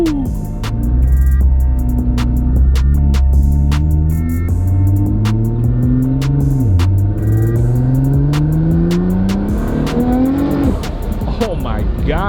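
A 1300-horsepower Nissan GT-R (BL 1300X GTR Nexus build) accelerates hard from inside the car, its loud engine note climbing steadily through the gears with a brief dip at a shift, while people talk and exclaim over it.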